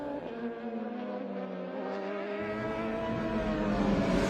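Racing cars at the 2023 Sydney Masterblast accelerate away down the track, a loud, continuous roar of engines rising in pitch and intensity as the leading car pulls clear.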